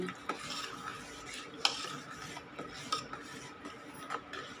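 A spoon stirring a boiling papad dough mixture flavoured with cumin in a pot, giving soft steady scraping with a few sharper clinks of metal, fairly quiet and without talk.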